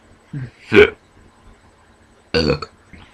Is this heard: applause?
no